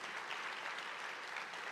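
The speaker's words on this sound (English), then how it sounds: "you can clap for that" Audience applause at a business diversity conference, a dense, even wash of many hands clapping at a steady, moderate level.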